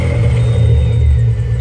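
A Pontiac car engine idles loudly up close, a deep steady rumble with a faint high whine running over it.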